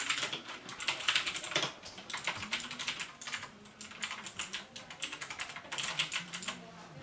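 Typing on a Razer BlackWidow Elite mechanical keyboard: rapid bursts of crisp, clacky keystrokes close to the microphone, in uneven clusters with short pauses and no voices.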